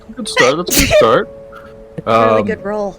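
A sudden sharp sneeze bursts out in the middle of a tabletop game session, loud and close, with people chatting before and after it.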